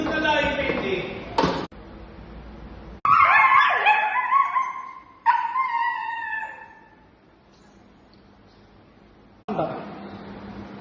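An injured dog that has fallen and cannot stand whimpers and yelps in short, high, wavering bursts close by. The cries come in several separate spells with quiet gaps between them.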